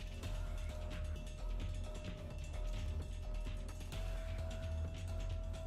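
Screwdriver turning screws in the puzzle game Zero Time Dilemma, a steady run of close mechanical ratcheting clicks and creaks over a constant low hum and a thin tone, with no talk.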